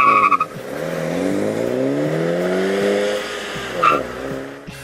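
A Mini Cooper S Convertible with a six-speed manual gearbox and front-wheel drive drives by, its engine note rising steadily under acceleration, loud and close with a brief chirp near the end.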